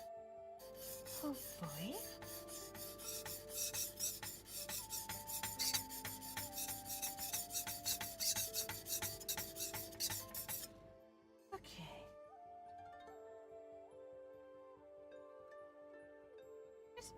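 A blade is worked back and forth across a whetstone in repeated rasping strokes, close and crisp, with ringing metallic overtones, a pause near the end, then a brief stroke; a voice speaks briefly.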